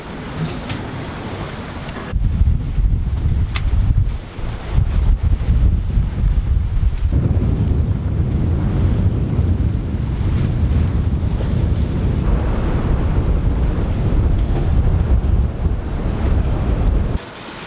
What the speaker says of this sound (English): Another day, another squall.